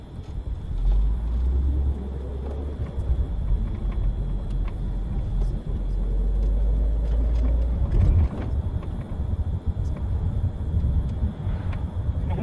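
A tour vehicle driving along a road near Niagara Falls, with a steady loud engine and road rumble throughout and a brief surge in low rumble partway through.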